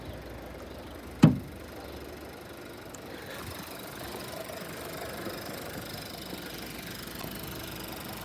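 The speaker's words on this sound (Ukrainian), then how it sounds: "Моторчик робить як часи, як годинник" A Skoda Octavia engine idles with a steady, low, even hum, preceded by a single sharp knock near the start; no talking.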